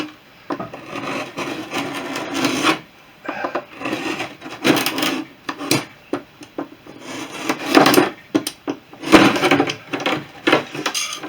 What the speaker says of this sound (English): So I'm going to trim off all this excess like that